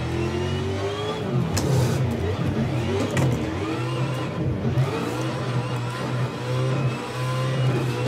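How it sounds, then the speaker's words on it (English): A simulated Nissan 280SX drift car in Assetto Corsa revs and accelerates, a loud mid-pitched engine rising and falling through gear changes with steady tire and motor noise throughout. "bash some doors with the 240 or whatever the thing is, 280SX"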